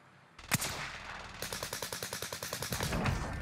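Automatic gunfire in Call of Duty: Warzone Pacific: a single sharp shot, then a fast, even burst of about fifteen rounds at moderate distance over a low background rumble.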